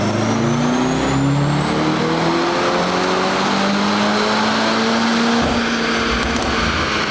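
A 2025 Mercedes C63 S on 93 octane with a JB4 map 4 tune roars through a dyno pull, loud and continuous as its pitch climbs steadily from start to finish.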